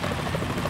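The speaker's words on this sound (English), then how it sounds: "Is that a chopper I just heard?" Helicopter rotor noise from a Metal Gear Solid 2 cutscene, a steady broadband chopping drone that holds loud and even for under a second as the aircraft approaches, with no voices.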